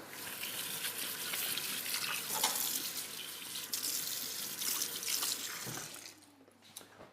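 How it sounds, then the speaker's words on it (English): Running water from a kitchen tap splashes steadily over hands at a sink during cooking, a close continuous hiss and patter that tapers off at the end with no talking. "And then I will just wash my hands quickly."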